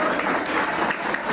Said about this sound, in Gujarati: હજી એક વખત જોરદાર તાળી.